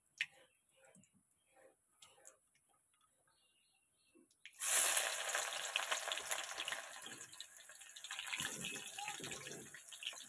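Chopped onions tipped into hot oil holding a spice tempering, a sudden loud close sizzle that starts partway through after quiet kitchen clatter and stays a steady hiss to the end.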